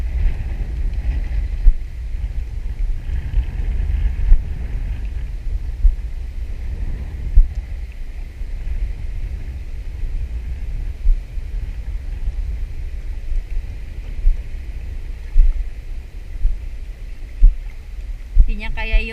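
Strong wind buffets the open water during a fishing trip, a steady low rumble and roar with gusty bursts throughout, close to the microphone.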